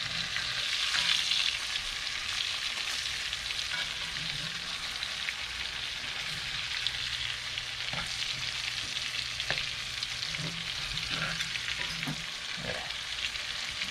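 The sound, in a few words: fish frying in a pan on the beach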